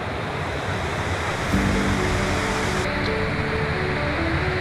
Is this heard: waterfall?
yes